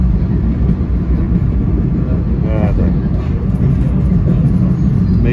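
A Metro North commuter train, #943 from Grand Central toward Wassaic, rides the rails with a loud, continuous interior rumble and a brief rising whine midway.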